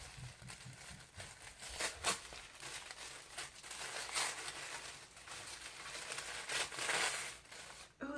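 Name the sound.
wrapped package being unwrapped, paper crinkling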